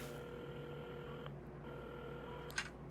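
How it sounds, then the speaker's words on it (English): A telephone is dialed in the video game Assemble with Care, giving a run of short electronic tones with a sustained hum beneath and a brief sharp click near the end. "at the counter, Carmen had started dialing the phone"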